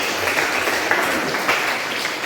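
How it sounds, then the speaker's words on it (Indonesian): Automotive engineering students clapping in a classroom, a short, even patter of applause from a small group, fairly loud and continuous. "tepuk tangan untuk kalian semua"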